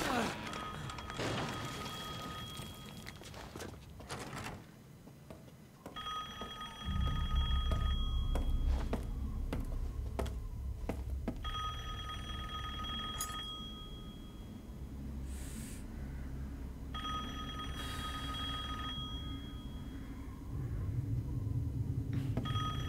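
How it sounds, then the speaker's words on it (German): A telephone rings repeatedly in Resident Evil Village, bright electronic bursts recurring in spaced rounds over dark ambient game sound and low rumbling, with someone talking softly in places. "Oh, ein Telefon."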